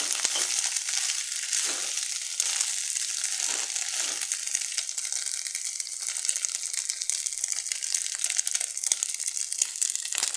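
Egg sukka masala sautéing in a pan with ground pepper and turmeric, giving a steady crackling sizzle with occasional scraping stirs, close and continuous without any voices.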